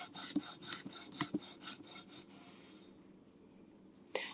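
A cloth rubs briskly over a cast-iron pan in quick rasping strokes, close and faint, then trails off into near silence with one last scrape at the end.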